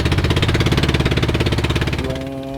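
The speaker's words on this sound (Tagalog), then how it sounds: "medyo maingay yung bangka pag tumatakbo" A noisy fishing boat motor in Pangasinan runs loud and close with a rapid, pulsing rattle that shifts to a steadier hum toward the end.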